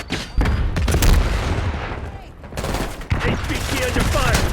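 Loud, rapid bursts of automatic gunfire in an Xbox shooter, the volleys stacking into dense fusillades with short gaps and booming impacts, close and continuous across the stretch.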